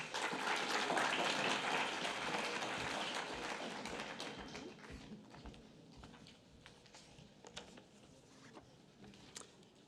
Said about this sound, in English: Please give Matthew a warm round of applause